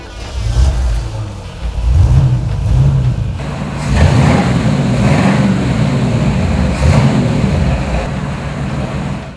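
A 1932 Ford 3-window coupe engine cranks, catches and revs, then settles into a loud, close, uneven rumble with repeated throttle blips.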